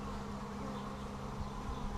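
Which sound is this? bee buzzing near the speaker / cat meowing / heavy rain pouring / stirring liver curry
bee buzzing near the speaker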